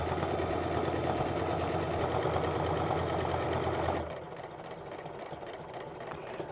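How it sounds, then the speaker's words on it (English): A sewing machine runs an 1/8 inch stitch around the edge of an apron, a fast, steady mechanical whirr and rattle close by that stops abruptly about two-thirds through, leaving a quieter hum. "I've set my sewing machine to sew an 1/8 inch stitch and I'm just gonna go all the way around"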